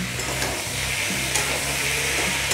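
Prawns and cauliflower for a Bengali prawn curry sizzle steadily in a pan while being stirred, a continuous close frying hiss with soft scraping of the spoon throughout, no voices.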